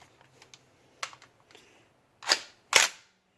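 An Umarex MP40 .177 BB machine gun fires on full auto: scattered mechanical clicks, then two short, sharp bursts close by in quick succession.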